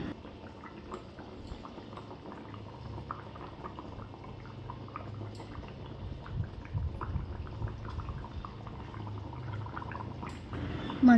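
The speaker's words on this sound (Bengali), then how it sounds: "মাছগুলোকে হালকা করে একটু ডুবিয়ে দিচ্ছি, মানে কি একটুখানি ঝোলের মধ্যে একটু ইয়ে করে দিচ্ছি" Fried fish pieces simmer in a curry broth with a soft, continuous bubbling and faint crackle, quiet and close, swelling slightly toward the end.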